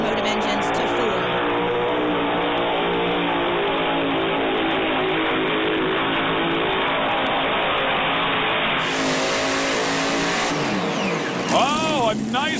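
A pulling tractor's engine roars in a sustained, harmonic-rich rev at a 2008 PPL tractor and truck pulling event in Hamburg, New York, loud and continuous, while an announcer talks over it.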